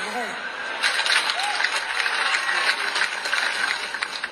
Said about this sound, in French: Ils applaudissent.